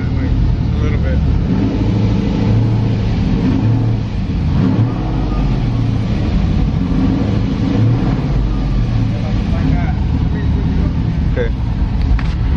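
A Camaro Z28 fitted with aftermarket cams revs up close by, its rough, lumpy engine rising and falling over the whole stretch while people talk nearby.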